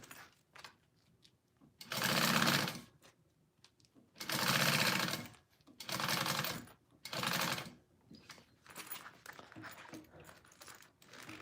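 An industrial sewing machine stitches a mini backpack in four loud bursts of rapid mechanical whirring, each lasting about a second, with quiet handling noises and faint shuffling between them.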